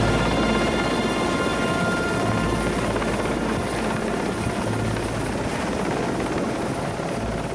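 A helicopter's rotor thrums loudly and steadily close by, a dense continuous roar that never lets up.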